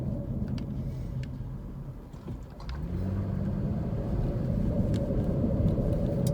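A car driving through Collegedale, Tennessee: steady road and engine rumble throughout, a brief dip around the two-second mark, then the engine note builds again as the vehicle accelerates.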